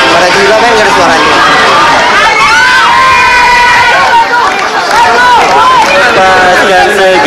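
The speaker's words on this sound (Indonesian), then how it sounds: "dia cuma dengar orang-orang cuma teriak-teriak nyanyiin lagu tanpa musik" A large concert crowd shouting and singing together with no music playing, loud and continuous, with dense overlapping voices swelling in chant-like melodic lines at a band's premiere.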